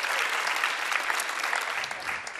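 An audience at a Latvian improv theatre performance during a music awards show claps loudly and continuously, a dense wash of applause filling the room.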